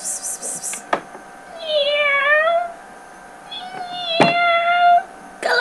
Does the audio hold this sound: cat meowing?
yes